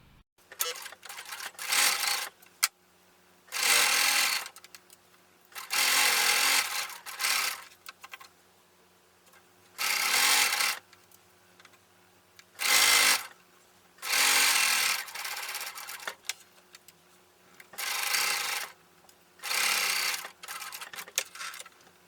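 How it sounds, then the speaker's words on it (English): A sewing machine stitches a garment sleeve in about a dozen bursts, each a few seconds of rapid, close mechanical whirring, separated by quiet pauses as the fabric is repositioned. "then I'm going to sew it"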